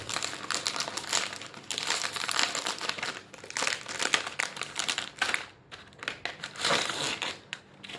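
A bag of salt and vinegar potato chips is handled and opened up close, producing loud, continuous plastic crinkling and crunching that rises and dips in waves, with no speech.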